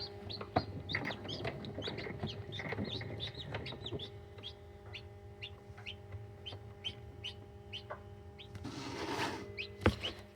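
Newly hatched chicks in an incubator give a steady stream of high, repeated peeping chirps, close and fairly loud, with a brief louder rustle near the end.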